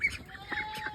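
Pet ducks calling in a farmyard, a short run of nasal quacks and honks close by, with no talk over them.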